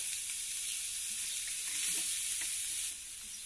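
Onions frying in a pan, a steady hissing sizzle at moderate level with a few light stirring touches, easing slightly near the end.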